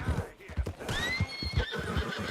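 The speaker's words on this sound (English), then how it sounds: "Ooh, this horse fast." A horse in a video game whinnies with a long, rising-and-falling neigh while its hooves drum out a steady galloping clip-clop underneath, close and continuous.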